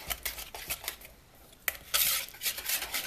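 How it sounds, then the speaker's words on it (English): A mixture with triple sec being stirred for a cannoli dip, a spoon clinking and scraping against a bowl in quick, irregular strokes, close up, with a brief quiet stretch and then a louder burst of scraping near the end. "you just want to give that a good little stir till it's mixed up"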